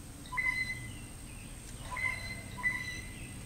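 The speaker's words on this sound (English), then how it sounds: "It sounds like a squeaky wheel, but it is definitely a bird." A bird calls outdoors with a squeaky-wheel-like note, three short, thin, high squeaks spaced over a few seconds, faint against a steady hum.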